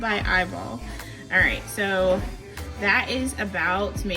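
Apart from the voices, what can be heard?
No everyday noises stand out.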